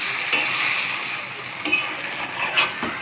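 Goat meat frying and being stirred in a pan, a close, steady sizzle with a few sharp scraping clicks from the stirring scattered through it.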